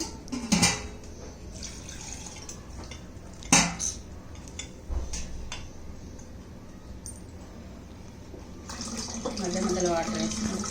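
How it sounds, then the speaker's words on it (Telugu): Water is poured and splashes over soaking tamarind being squeezed by hand in a bowl for Ugadi pachadi, with a few sharp clinks of a vessel, faint wet squelching, and a longer pour near the end under quiet speech. "కొంచెం మధ్య మధ్యలో వాటర్ వేసుకుంటూ"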